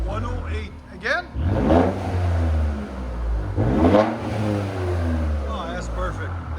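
Infiniti Q60 3.0L twin-turbo V6 with a 3-inch exhaust, loud close revs that climb and fall in several bursts over a steady idle rumble.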